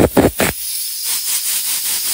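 A few short puffs of air give way to a steady hissing blower cleaning a Toyota Veloz aircon filter, moderately loud and close, running continuously with slight fluctuations.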